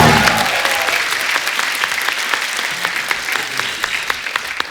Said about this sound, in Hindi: जोरदार तालियां जीतू जी के लिए